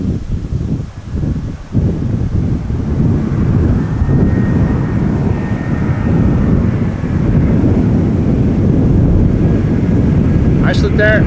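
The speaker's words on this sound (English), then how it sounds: "Icelandair flight 500 arriving from Reykjavik, 767-300." Icelandair Boeing 767-300 jet arriving, a steady broad engine roar that builds and holds loud throughout, with wind buffeting the microphone early on.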